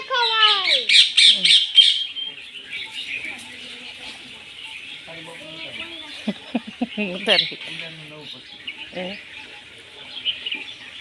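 Pigeons at a village loft make squawks, coos and brief flutters in bursts, loudest at the start and then scattered, with people talking in the background.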